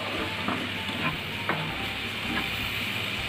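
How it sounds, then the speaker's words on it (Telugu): Milk is stirred into a rava laddu mixture in a pan over a low flame, a steady sizzle and hiss with soft scraping strokes of the spoon at close range, and no one talks. "ఇప్పుడు మనం మిల్క్ యాడ్ చేసుకుందాం సిమ్లో పెట్టుకొని బాగా కలుపుకోవాలండి"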